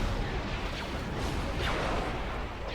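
Dense rumbling explosions and crashing blasts from a space station under attack in the Star Wars Empire at War Remake mod, a continuous loud barrage with no talking.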